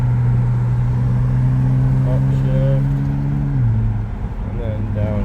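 A BMW E90 325i engine hums steadily at a constant pitch, then its tone drops as the paddle shifter triggers a downshift, with a voice talking over the engine.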